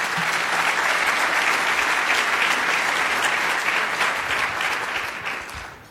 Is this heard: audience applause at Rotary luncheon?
yes